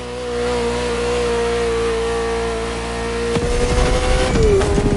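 A Ferrari sports car engine in the PS5 game The Crew Motorfest drones at steady revs, then surges into a loud, gritty roar with rising pitch near the end; no voices.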